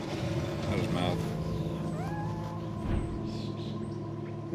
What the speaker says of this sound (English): These are young kittens, boy.